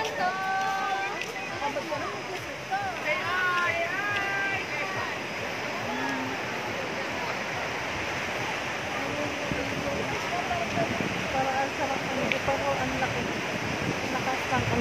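Mountain river water rushing steadily over rocks in a cool pine-covered highland, a continuous close splashing wash, with people talking and exclaiming over it.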